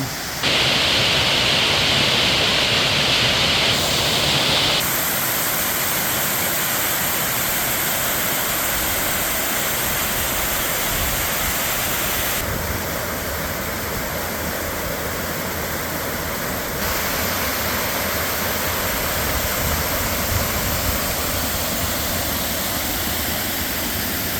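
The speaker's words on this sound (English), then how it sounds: "Here's the largest drop of the waterfall." A large waterfall drop on Miners Run roars steadily and close, a dense unbroken rush of falling water with no voices.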